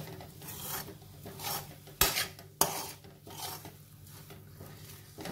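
Grated fresh coconut and jaggery being mixed together in a bowl for traditional Konkan khantoli modak, a steady scraping, rubbing stir close up with two sharp clinks of the utensil against the vessel midway.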